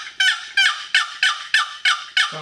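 A wooden box call on a turkey-hunting outing gives a series of seven evenly spaced, loud, raspy turkey yelps, each sharp-edged and fading quickly.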